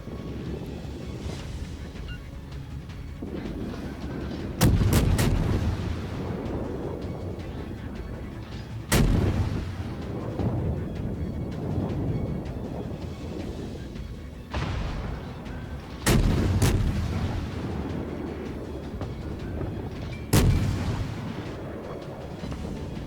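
Naval gunfire in World of Warships: heavy booming broadside salvos recur every few seconds, each a loud sharp blast with a rolling low rumble, over constant wind and sea ambience.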